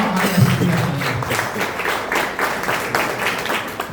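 An audience at a health and wealth awareness program applauds steadily, a dense wash of clapping that stays at an even level throughout, with no talking over it.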